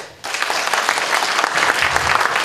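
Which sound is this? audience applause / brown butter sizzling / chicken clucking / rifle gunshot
audience applause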